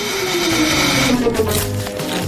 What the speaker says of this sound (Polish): Uruchamiam odkurzacz.